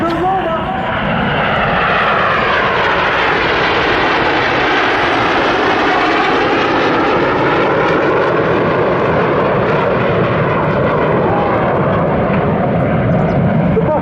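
Red Arrows RAF aerobatic jets flying a rollback manoeuvre at an airshow, a loud continuous broadband jet roar holding steady throughout with a commentator's voice over it.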